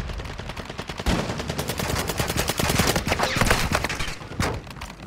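Rapid, dense bursts of MAC-10 submachine gun fire in the Warzone Mobile video game, sustained volleys with brief gaps, loud and close throughout.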